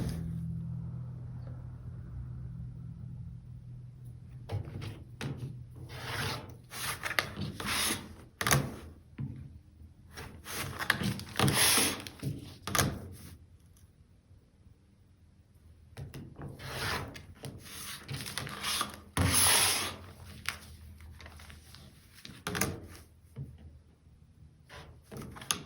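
A fabric quilt block for a basket diamond pattern is trimmed, giving bursts of close scraping and rasping cutting strokes separated by quiet pauses. No one speaks.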